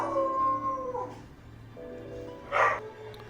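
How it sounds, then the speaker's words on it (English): Several dogs howl in long, wavering tones that rise and fall together, with a louder burst of howling near the end; no clear barks stand out. "There's my dogs."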